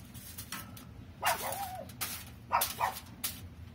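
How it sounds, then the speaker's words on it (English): Dogs bark and yip in short, scattered bursts at moderate distance during an outdoor grilling session, with a whimpering note between barks and no talk. "All these dogs barking in my videos."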